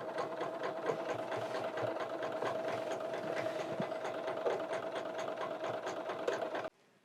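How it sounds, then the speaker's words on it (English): Sewing machine top stitching all the way around a vinyl Christmas tree skirt, a steady close mechanical whir with a constant hum and fine rapid needle ticking, running continuously alone until it stops abruptly near the end. "I'm literally just going to go all the way around now, top stitching"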